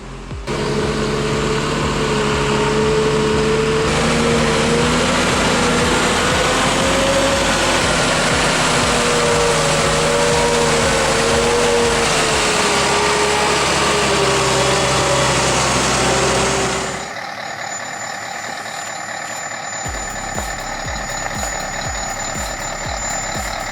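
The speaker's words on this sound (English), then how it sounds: "That engine sound doesn't even flinch under pressure." An engine drones loudly and steadily under load for most of the clip, with a wavering pitch, then cuts to a quieter mechanical sound near the end, heard alone without speech.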